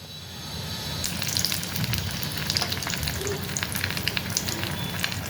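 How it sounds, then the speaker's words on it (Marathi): Vada coated in batter deep-frying in hot oil, a loud continuous sizzle that swells suddenly after about a second, with bubbling crackles and no voices. "आता ह्याच्यात मी डीप करून तळून घेणार"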